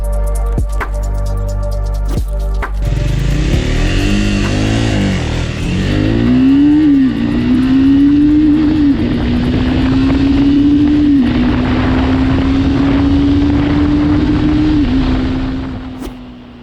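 A Triumph Speed 400 motorcycle engine revs up and accelerates, its rising tone climbing steadily and holding a strong, loud drone close by before easing off at the end, with no talking.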